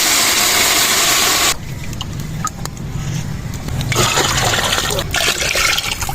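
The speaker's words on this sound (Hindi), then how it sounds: "तो अभी इसमें शामिल करेंगे पानी" Water pours into a pot of kofta pulao, a loud rushing splash up front that quickly gives way to softer sloshing and bubbling in the pot.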